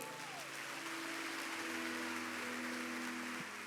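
Congregation applauding in a church service, a steady dense wash of clapping with a faint sustained tone underneath, continuing evenly throughout.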